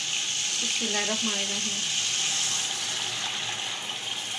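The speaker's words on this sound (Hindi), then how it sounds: "अब मैं इसमें ऐड करी हूँ यखनी।" Yakhni broth poured into fried beef in a pot for Kabuli pulao, a steady loud watery gush and sizzle running throughout, with a brief spoken phrase near the start.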